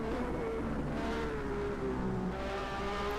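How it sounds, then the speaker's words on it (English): The Lamborghini engine of a 1991 Formula One car at the Portuguese Grand Prix, a loud sustained high-revving whine that climbs and shifts as the car passes, alone with no talk. "This gives us an opportunity to listen to the Lamborghini engine, which is music to my ears"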